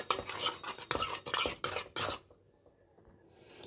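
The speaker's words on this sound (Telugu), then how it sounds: "కలుపుకుంటున్నాను చూడండి ఫ్రెండ్స్ చిక్కగా ఇది చిక్కగా వచ్చేటట్టు కలుపుకోవాలి" A spoon scrapes and knocks against a pot while custard mixture is stirred until thick, a series of quick rhythmic strokes, close and clear, before trailing off into near silence.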